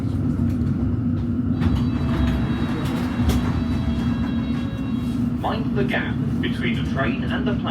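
Inside a London Underground Metropolitan line train as it runs, a loud continuous rumble and hum, with a voice speaking over it in the last few seconds.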